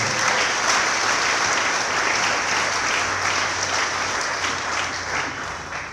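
A church congregation applauds during a sermon, producing loud, dense, sustained clapping from many hands that fades slightly toward the end.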